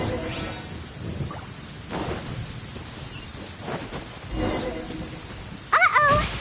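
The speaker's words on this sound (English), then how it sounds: "Lightning storm!" A Genshin Impact thunderstorm: steady rain hiss with low thunder swells rising and fading, then a short bright game chime near the end.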